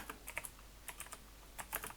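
Faint, quick clicks and taps of a computer keyboard come in irregular bursts while code is entered in a quiet room.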